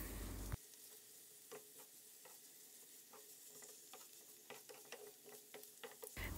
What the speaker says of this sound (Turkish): Soğanları karıştıralım. ...100 gram kadar kıyma ekleyelim.